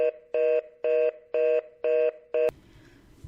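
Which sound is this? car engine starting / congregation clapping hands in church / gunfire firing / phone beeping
phone beeping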